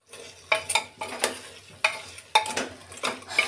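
Meat dropped into a pan of fried spices and browned onions, with several loud stirring scrapes and bursts of sizzling over a steady frying hiss, heard close up.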